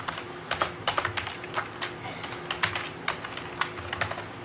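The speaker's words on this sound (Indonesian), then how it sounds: "berarti kita ketik juga" Fast, uneven typing on a computer keyboard during an algorithms and data structures lesson, a close run of crisp key clicks over a steady low hum.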